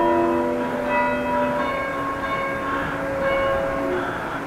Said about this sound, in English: the bells that I'm playing are lit up now